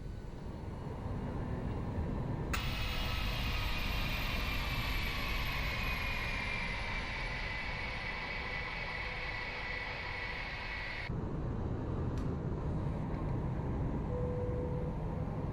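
A Boeing 737-800 in the X-Plane 11 flight simulator lowers its landing gear on approach to Toronto, bringing a sudden rise in steady airflow rumble and rushing noise over the engine drone. The louder roar holds for several seconds, then drops back.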